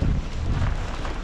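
Wind blowing steadily during a snowfall in cold Canadian weather, a continuous low rushing roar buffeting the microphone with gusty swells and no voices.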